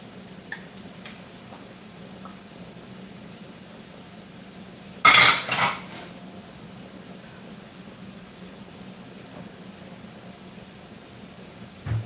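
Onions dropped into a pan while cooking a chicken bacon ranch potato bake make one brief, loud rattle and sizzle burst partway through, set against a quiet room hum.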